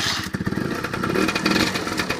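A Peugeot Speedfight scooter with a newly fitted starter fires up: the engine sputters and catches with a mechanical clatter, then settles into a buzzing, uneven idle with small revs, close by.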